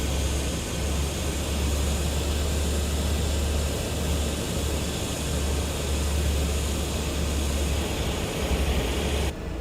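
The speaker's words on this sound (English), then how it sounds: "I actually really like the exterior sounds of this aircraft. Give you a little throttle here, a little thrust." Twin engines of an F406 Caravan II in a flight simulator game, heard from outside the aircraft as the throttle is advanced, giving a steady, loud, throaty drone with a deep bass hum that holds throughout.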